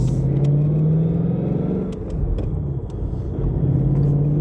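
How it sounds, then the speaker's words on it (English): Manual-transmission car engine revving as the driver downshifts into third and then second with rev matching; a loud, close, steady engine drone with a brief blip and dip in the middle, no talking. "That's me downshifting into third."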